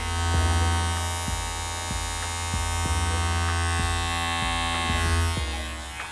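A Surker SK 807B electric shaver runs steadily at close range, giving a constant motor hum with a faint periodic ticking throughout, and no voices.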